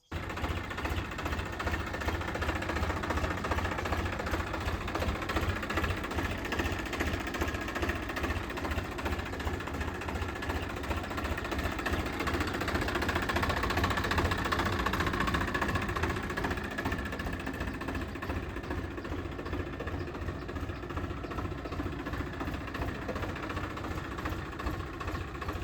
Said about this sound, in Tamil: இந்த டிராக்டர் ஈச்சரில் 557 4 வீல் டிரைவுங்க 2021 மாடல்.